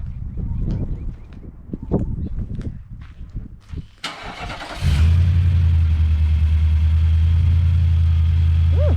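A Nissan Patrol Y62 engine fitted with a new Torqit exhaust cranks and catches after some clattering and footsteps, then settles into a loud, steady low idle rumble.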